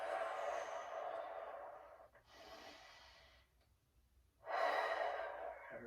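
Deep breaths during a stretching exercise: a long, airy exhale, a quieter breath in, then another strong exhale, close to the microphone with no talk.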